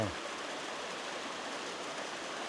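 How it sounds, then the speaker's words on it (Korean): A small waterfall pours in a little valley stream on a forest trail in Jeongseon, a steady, broadband rushing of water that stays even and close, with no breaks across the few seconds. "귀여운 폭포수가 쏟아지네요"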